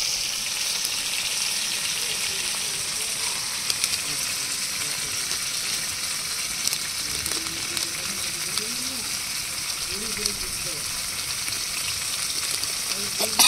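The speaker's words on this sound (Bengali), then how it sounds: "ভেন্ডিগুলো ভাজা হচ্ছে" Okra (bhindi) fries in a pan with a soft, even sizzle that runs steadily throughout, fairly quiet, with a faint voice in the background at times.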